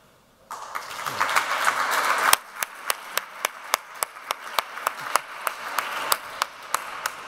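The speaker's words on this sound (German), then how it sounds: "Starker Applaus" Applause at a German environmental and building award ceremony: a dense wash of clapping for about two seconds, then settling into loud, regular rhythmic claps in unison that continue steadily to the end.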